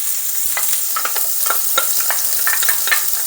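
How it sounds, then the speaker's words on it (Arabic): Onion sizzling as it goes into hot oil in a home kitchen pan, a steady close crackle of frying with scattered sharp pops and spatters throughout, no voices. "وأول ما يحمى معي الزيت بنزل البصلة"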